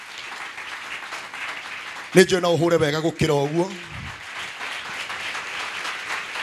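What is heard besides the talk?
audience clapping in church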